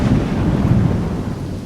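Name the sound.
thunderstorm with heavy rain, documentary sound effect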